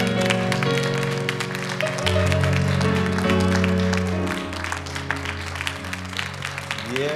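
A church congregation claps for a visiting apostle during a service, a dense round of hand claps running steadily beneath sustained music, with no talking.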